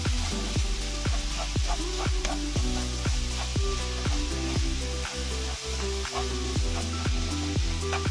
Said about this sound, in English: Continue stirring on high to medium heat for about 5 minutes or until the peppers